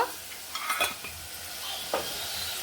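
A spice masala with turmeric sautés in a pan, a continuous sizzle broken by a few sharp scrapes and taps of a stirring spoon.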